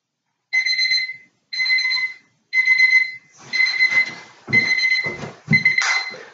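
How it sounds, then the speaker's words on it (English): A digital alarm clock beeps in six evenly spaced bursts, each about half a second long, loud and close. The last few bursts are layered over rustling and shuffling noises. "My alarm went off at 7 in the morning, as usual."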